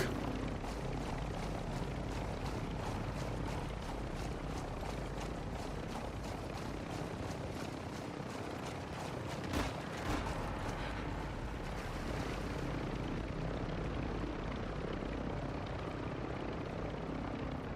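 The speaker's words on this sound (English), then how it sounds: "Oh, that chopper lands." A helicopter sets down in Call of Duty Warzone 2.0 DMZ, its rotor thrumming with steady pulsing beats and engine drone, fairly loud and continuous, easing off toward the end.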